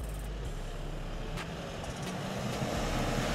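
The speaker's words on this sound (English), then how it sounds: "The car drives in the usual all-wheel drive mode." Toyota Hilux pickup driving off-road in ordinary all-wheel drive mode: a steady low engine drone and rolling rumble, close and continuous, with faint clunks from the chassis over uneven ground.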